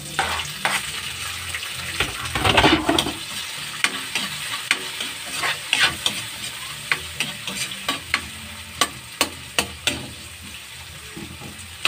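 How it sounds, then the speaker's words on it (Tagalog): A wok sizzles and hisses as food is stir-fried in a home kitchen, with a sharp scraping burst near the start, then steady frying crackle broken by repeated metallic clanks of the spatula against the pan. "Kailangan tumutunog ang kawali."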